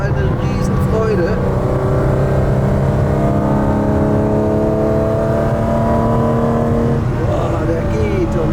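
A 1980 BMW M1 engine pulling hard while driven fast, a loud, steady roar with rising and falling pitch as it accelerates and shifts, heard from inside the car with someone talking over it.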